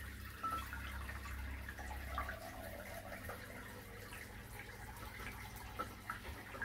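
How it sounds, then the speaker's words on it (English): Wort trickling through grain in a Klarstein Brewster homebrew system, a faint, steady flow of liquid with small drips and splashes and a low hum underneath, no voices. "You can hear it still trickling through the grain"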